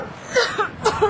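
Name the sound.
person coughing into a sleeve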